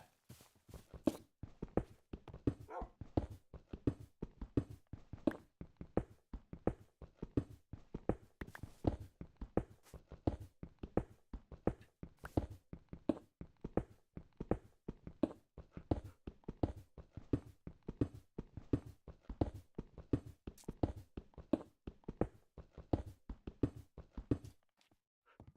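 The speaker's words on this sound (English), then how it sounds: "I hear the dog, because the dog's right next to me, and I hear him running around" A dog in a video game runs around close by, its rapid footfalls pattering in a steady, even rhythm for the whole stretch, fairly soft and alone with no talk.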